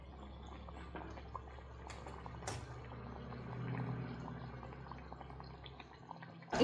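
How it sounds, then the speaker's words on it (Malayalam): Kammeera bread bun dough fries in hot oil with a soft, steady bubbling and faint crackle. The sound is quiet and even throughout, with occasional small pops and no voices. "ഇനി നമുക്കിത് ചൂടായ എണ്ണയിലേക്ക് ഇട്ട് കൊടുക്കാം"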